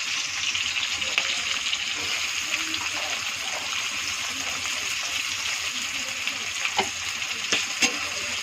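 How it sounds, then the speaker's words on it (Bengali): Green beans frying in a pan for a vegetable pulao with whole spices like cinnamon, cardamom, cloves and peppercorns, giving a steady close sizzle throughout with a few sharper crackles and light stirring. "বিনসটা একটু ভালো ভাজা হবে"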